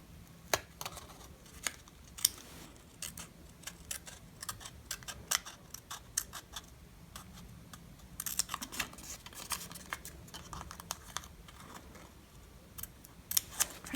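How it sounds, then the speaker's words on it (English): Sharp scissors snip through a paper bookmark in quick, crisp cuts, close and fairly quiet, in short irregular bursts with pauses between them. "Take some sharp scissors."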